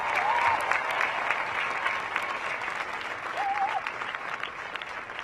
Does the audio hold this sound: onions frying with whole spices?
no